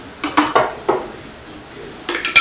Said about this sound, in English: I'm just going to do about 1/8 of a cup of sugar on this quart jar